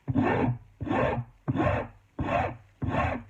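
Shinto rasp beveling the edge of a wooden axe handle for an octagonal shape: five rhythmic rasping strokes, each about half a second, close and loud with short pauses between, no talking.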